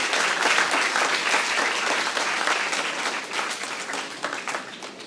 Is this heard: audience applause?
yes